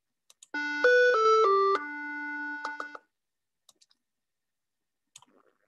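A micro:bit board plays a short programmed melody of buzzy electronic beeps, five or six stepped notes over about two seconds, with faint clicks before and after and no talk.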